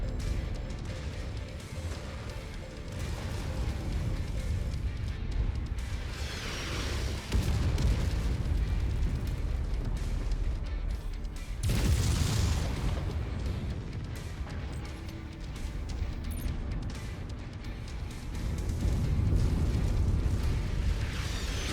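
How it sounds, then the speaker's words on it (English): Artillery explosions in MechWarrior 5: Mercenaries, heavy rumbling booms rolling one into another with sharp impacts around the middle, loud and continuous throughout. "Bloody artillery, honestly."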